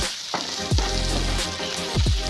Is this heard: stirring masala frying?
yes